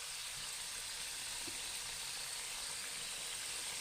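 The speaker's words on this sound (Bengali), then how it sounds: "আর এগুলোকেও হালকা আঁচে ভাজতে হবে 6 থেকে 7 মিনিট।" Sweet dough pieces fry gently in oil over low heat, giving a soft, even, continuous sizzle that holds steady and faint throughout, with no voices.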